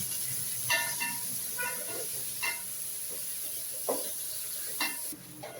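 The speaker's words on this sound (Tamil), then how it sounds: "வெங்காயம் நல்லா வதங்கட்டும்." Small onions sautéing in a pan for a nagara fish curry, a soft steady hiss with scattered stirring taps and scrapes at a moderate distance.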